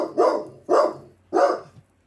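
A dog at home barks three times in a slow, spaced rhythm, each bark loud, full and close, with a brief trailing grunt after the last and no voices.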